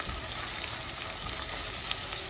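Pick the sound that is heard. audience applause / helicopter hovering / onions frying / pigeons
onions frying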